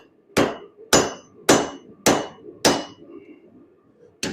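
Five loud, evenly spaced hammer blows ring out on a forged steel bar, cutting off its untwisted end, each strike a sharp metallic clang with a short ringing decay, followed by a pause and a sixth blow starting at the close.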